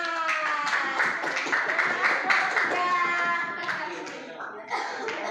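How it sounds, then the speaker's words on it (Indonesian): A classroom of students claps together for a group that has just presented, a dense, close burst of hand clapping with children's voices and chatter mixed in throughout. "Ya, beri tepuk tangan."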